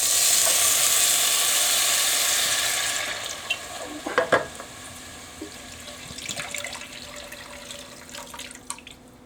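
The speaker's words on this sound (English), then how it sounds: "next I'm going to pour in the chicken broth." Chicken broth poured into a hot cast iron pot for split pea soup, a loud sizzling, rushing pour that fades after a few seconds into quieter bubbling with scattered clinks and stirring.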